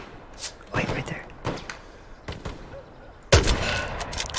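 Gunfire in the World War II shooter game Hell Let Loose: several sharp rifle shots spaced across the moment, with a loud close crack near the end, over background battle noise and someone talking.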